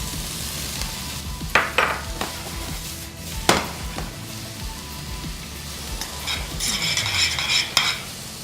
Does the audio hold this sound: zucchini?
yes